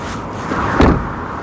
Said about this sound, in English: Door shut sounds.